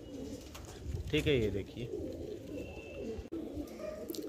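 Pigeons at a Lucknow pigeon sale give a short burst of throaty cooing, close by, while someone talks over it.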